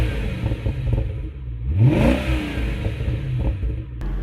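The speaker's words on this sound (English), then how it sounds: "These are Borla exhaust. Here you see the tips are larger than usual, and it gives it an awesome guttural noise." A 2005 Jaguar XKR with Borla exhaust revs once, rising into a deep guttural roar and then falling back to a rumbling idle, close and loud.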